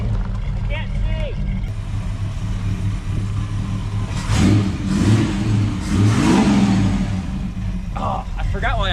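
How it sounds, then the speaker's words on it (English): A car engine revs up and roars for a few seconds, loud and close, with people talking and shouting over it. "Oh, I forgot why I love this car so much. Sounds healthy."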